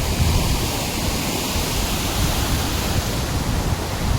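Heavy monsoon rain pours down in Balasore, Odisha, as water rushes strongly off the hills, forming a dense, loud and continuous roar with no voices.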